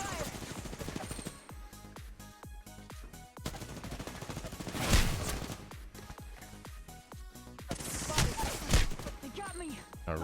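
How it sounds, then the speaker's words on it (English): Gunfire in Apex Legends, rapid automatic bursts of shots crackling close and loud, repeated in quick volleys throughout, with someone talking over the action. "He'll take some shots at me, and we'll see how long we can survive."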